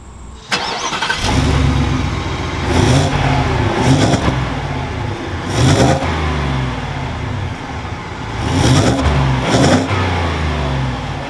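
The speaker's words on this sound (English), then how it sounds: "With my foot on the brake, it's time to start this up." A 2021 Ford F-150 XLT pickup cranks and starts with a key, then idles with several loud revving swells spaced a few seconds apart, close and without talk.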